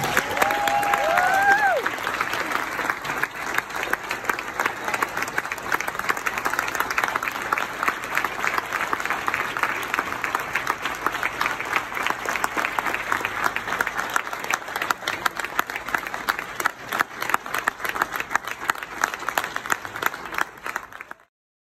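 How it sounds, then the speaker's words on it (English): Audience applause for a mayor at an MLK breakfast event, sustained dense clapping filling a hall for about twenty seconds, fading out near the end, with faint voices mixed in. "May we give her a round of applause."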